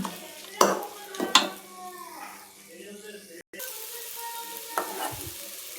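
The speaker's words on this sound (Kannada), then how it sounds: "ಇದಕ್ಕೆ ರೈಸ್ ಹಾಕಿ ಮಿಕ್ಸ್ ಮಾಡೋಣ." Cooked rice is stirred into raw mango gojju in a pan for mango chitranna, with a spoon scraping and knocking against the metal in a few sharp strikes, followed by softer stirring and a faint sizzle.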